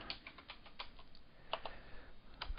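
Quiet, rapid typing on a computer keyboard, with irregular clusters of soft key clicks close by and no talking.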